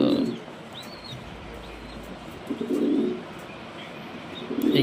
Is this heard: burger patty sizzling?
no